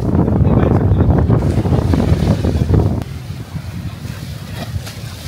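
Strong wind buffeting the microphone over rough ocean surf crashing, loud and roaring for the first three seconds, then easing to a lower rumble.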